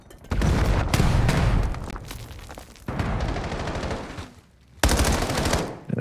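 Loud, sustained automatic gunfire in Call of Duty Black Ops 7 as players shoot through walls, long dense bursts broken by a brief lull before firing resumes.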